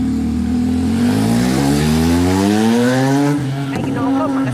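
Motorbikes racing along a street, engines revving loudly and rising steadily in pitch as they accelerate close by, with a brief dip and a shift in tone near the end.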